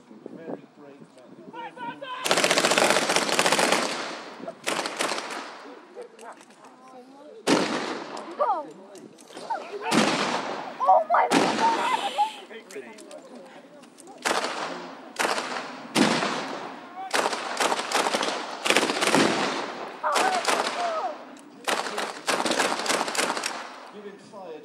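Bursts of gunfire at a WWII battle reenactment at an ironworks, with commandos and German paratroopers exchanging shots: repeated loud volleys and rapid shot clusters spread across the whole stretch, with brief quiet gaps and some talk in between.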